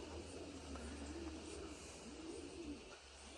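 Soft, low cooing of pigeons repeating in gentle rolling phrases, faint and distant over a quiet background hum.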